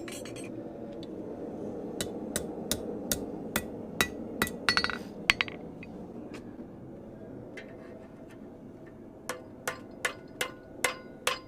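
Metal is hammered straight on an anvil, with sharp ringing strikes in irregular bursts that come close together, then a pause, then a faster run of evenly spaced blows near the end.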